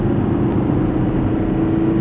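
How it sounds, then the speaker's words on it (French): A Volkswagen Polo 5 engine hums steadily with a low, even drone, building slightly as the car accelerates again after braking. "Là j'ai mis un coup de frein, là je réaccélère."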